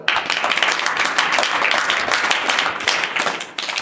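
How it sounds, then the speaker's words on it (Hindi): A class of students claps hands together in dense, ragged applause, many overlapping claps close by that keep going for a few seconds and then taper off. "ताली डाल दो।"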